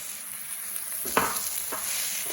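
Sweet potato and celery frying in a pot for a vegetarian tortellini soup, a steady low sizzle with a couple of brief stirring scrapes, close and fairly quiet, no talking.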